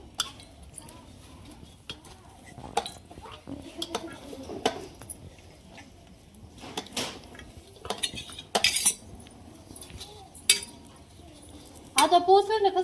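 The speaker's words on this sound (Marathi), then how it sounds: "आणि आता मसाला भाजून घेते मी." A spoon stirs spice masala as it roasts in a pan over a wood-fired clay stove. Scattered metallic clinks and scrapes come in short, irregular bursts, close up against quiet background sounds.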